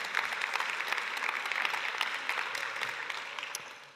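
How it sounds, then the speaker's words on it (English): Sustained audience applause at a human rights conference in Amsterdam, a dense steady patter of many hands clapping in a large room that fades slightly toward the end. "Yes, another round of applause."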